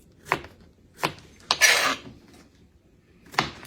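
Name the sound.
knife slicing vegetables about 1/4 inch thick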